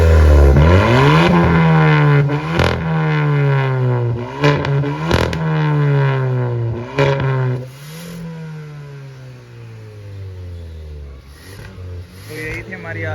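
Kia Seltos GT-Line turbo with a valvetronic exhaust revs repeatedly, each rising note snapping off into sharp pops and crackles, loud and close, with someone talking over the engine throughout.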